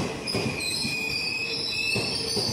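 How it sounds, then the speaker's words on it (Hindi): A passenger train from Ballia pulls into Jhusi station in Prayagraj, its wheels squealing in a steady, high, metallic whine over a low rumble of rolling railcars, heard from nearby with no talking. "आ गई ट्रेन अपनी, पैसेंजर ट्रेन है"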